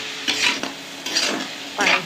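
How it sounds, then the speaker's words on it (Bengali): A pangas fish mash with yardlong beans and potato, cooked in mustard oil, sizzles in a pan as the water dries off. Several close scraping stirs come at irregular intervals over a continuous frying hiss. "পানি শুকিয়ে ভাজা ভাজা করে নেব।"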